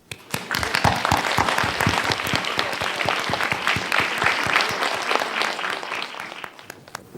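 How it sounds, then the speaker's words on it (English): Warm audience applause welcoming Professor Gan at a formal conference in Hong Kong, many hands clapping crisply and steadily, close and fairly loud, swelling briefly then tapering off near the end. "Let's give a warm applause to welcome Professor Gan."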